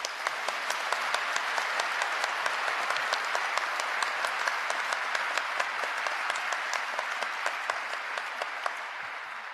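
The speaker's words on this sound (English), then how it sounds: "Please join me in a round of applause for our special guests." An audience at a commissioning ceremony applauds its special guests, a full, even round of clapping from many hands that holds steady for several seconds before easing slightly at the end.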